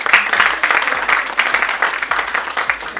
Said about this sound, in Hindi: अनीला के लिए जरा तालियां बजा दें आप।